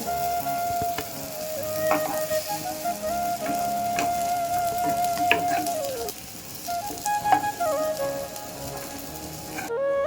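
Oil sizzling and frying steadily in a kadai, a close, continuous crackle with scattered pops and a few clinks of utensils, no voices.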